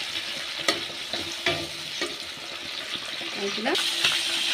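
Cumin, bay leaf, tomato and green chilli stirred and frying in a pan, a steady sizzle with intermittent scraping strokes of the spoon, close by, with a voice speaking over parts of it.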